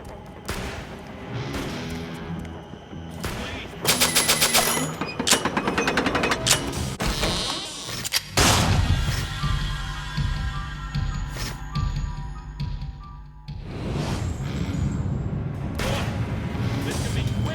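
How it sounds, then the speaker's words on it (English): Gunfire in the horror game Saw II: Flesh and Blood, with repeated loud bursts of shots and booming impacts in several clusters over layered game sounds and a voice talking. "He's still shooting."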